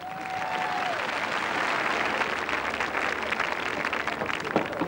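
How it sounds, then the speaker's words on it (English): A studio crowd at the 1987 BBC royal knockout tournament applauds the herald, a continuous wash of clapping that swells and holds steady, fairly loud with a faint whistle early on. "Aled Jones, round of applause."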